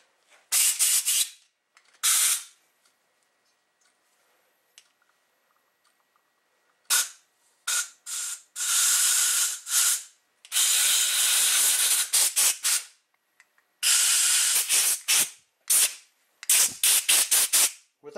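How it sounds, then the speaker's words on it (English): Compressed air blasts solvent through a Yamaha ET 340 carburetor in loud, sharp hissing bursts, some short and some held for a second or more, separated by near-silent pauses. "we're going to blow some solvent around here"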